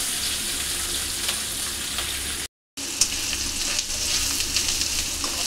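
Onions sizzling in a pan for home-made semiya upma, a close, steady frying hiss with light stirring scrapes, briefly cut to silence midway before the crackling sizzle resumes unchanged.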